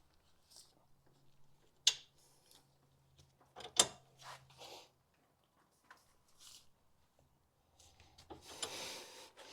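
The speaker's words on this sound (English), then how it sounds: "we can remove these two 19mm bolts. I'm going to use a breaker bar just to get them loose." Breaker bar ratcheting against 19mm brake caliper bracket bolts on a Fiat during a front brake job, giving a few sharp metallic clicks and creaks spread across the stretch, fairly close and moderately loud, with quiet shop noise between.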